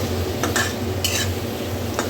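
Soybeans are stirred in melted butter in a pan, with a few bright scrapes and clinks of the utensil against the metal over a soft, steady background.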